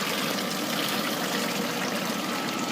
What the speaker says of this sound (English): This is the kind of water flow you need over your pads.